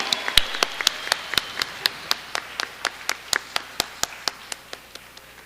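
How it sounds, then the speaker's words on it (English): A small audience claps for two dancers at their Arangetram, a Bharatanatyam debut, with sharp hand claps in a fairly steady rhythm over about five seconds, moderately close and alone without talk. "Please give Shreya and Shriya a big, big round of applause on their incredible achievement today"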